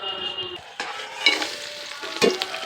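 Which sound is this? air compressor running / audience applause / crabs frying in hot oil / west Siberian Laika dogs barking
crabs frying in hot oil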